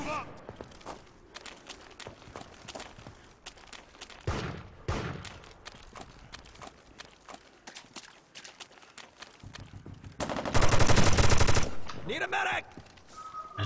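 Video game gunfire in America's Army Proving Grounds: scattered sharp single shots and footsteps, then a loud sustained automatic burst near the end, with a voice talking intermittently.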